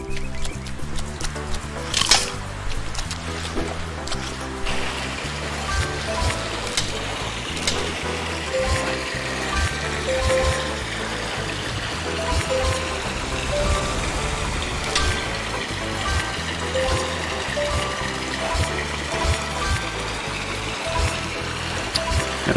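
Rushing waterfall in the Ty the Tasmanian Tiger Remastered video game's rainforest level, a steady continuous splashing roar lasting throughout with scattered game effects over it and no talk.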